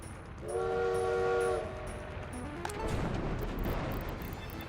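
Video game train pulling into a station, a loud steady horn blast near the start, then rolling rail and wagon rumble fading slightly as it settles.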